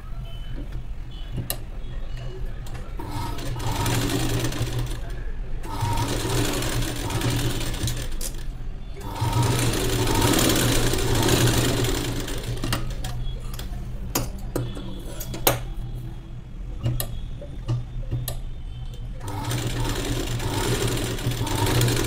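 A sewing machine runs in bursts while stitching a plain blouse, its rapid mechanical clatter steady and close, pausing a few times between runs, with a voice talking quietly beneath it.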